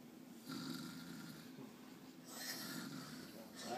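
A person imitates snoring with soft, rasping breaths, two or three drawn-out snores close by and fairly quiet against a faint background hum.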